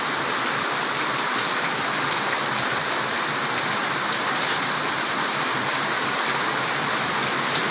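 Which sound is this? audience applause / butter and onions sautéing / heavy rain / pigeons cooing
heavy rain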